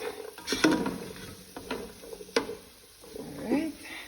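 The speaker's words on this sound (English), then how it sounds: "I'm gonna turn the stove on low and just let it saute down a little, just sweat down a little." Lentil ingredients sautéing in a pot over a low stove, with soft sizzling and intermittent stirring and scraping clinks, close and fairly quiet, no talking.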